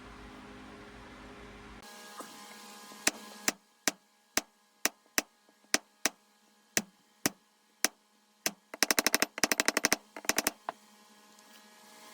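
A Folsom stamp is struck into leather with a mallet to texture it: about a dozen sharp, evenly spaced taps, then a fast flurry of quicker blows, close and crisp against a quiet background.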